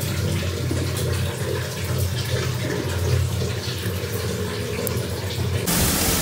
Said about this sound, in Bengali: আলুগুলো একটু ধুয়ে নেওয়া হচ্ছে।